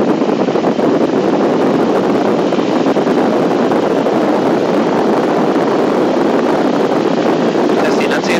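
A small airplane engine runs up to 2,000 RPM, a loud steady roar with heavy wind buffeting that continues unbroken throughout.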